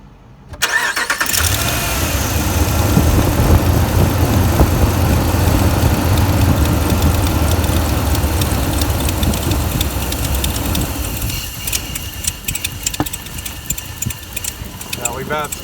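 A 2011 RAM 1500 pickup with a hard-start and stalling fault cranks and catches, then runs with a steady, loud engine drone for most of the clip before the sound shifts and thins near the end.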